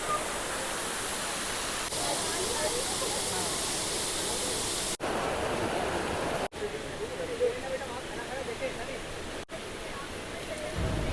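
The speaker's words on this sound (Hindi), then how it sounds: "और ये आपको झरने का नज़ारा।" Bee Falls waterfall in Pachmarhi gives a steady broadband rush of falling water. Nearby visitors murmur faintly beneath it, and a few abrupt cuts break the sound.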